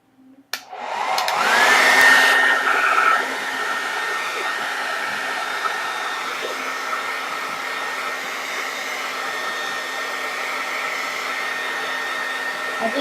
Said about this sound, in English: I'm just taking a big chunk and I'm blowing at the root and bringing it on down to like mid hair, mid shaft.